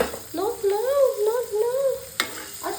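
Spaghetti being stirred in a hot pan with pepper and fresh coriander, a soft continuous sizzle and scraping running for about two seconds, close and steady, ending with a sharp clink.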